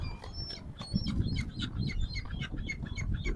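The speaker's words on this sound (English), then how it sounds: "There's a lot of pigeons." Pigeons flap their wings as a flock takes off at Southsea, a burst of close fluttering beats with a few faint chirps mixed in.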